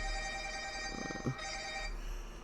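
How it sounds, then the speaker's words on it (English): A telephone rings nearby in a room, a short tonal electronic ring that fades out, with no one speaking. "I'm sorry about that phone. It's too far away for me to try to get to."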